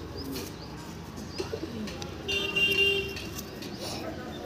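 Pigeons coo and flutter inside a loft, their soft calls close and overlapping, with some chirps and distant background noise.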